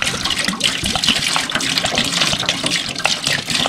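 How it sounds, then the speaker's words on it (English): Water poured from a vinegar jug into a container, a continuous splashing, gurgling pour heard close and fairly loud for a few seconds without speech. "we're going to pour some water in there"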